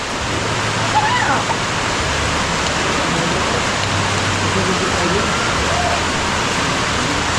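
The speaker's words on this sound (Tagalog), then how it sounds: "Medyo inabot namin ng ulan." Steady rain pours down outdoors in Sorsogon, a dense, even hiss filling the scene for several seconds, loud and close, with faint low rumbles underneath and no clear talk.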